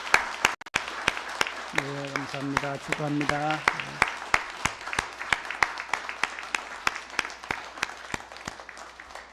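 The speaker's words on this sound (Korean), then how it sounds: "박수하겠습니다." Church congregation applauding at the close of a Sunday service, steady sharp claps running throughout, with someone speaking briefly over the applause near the start.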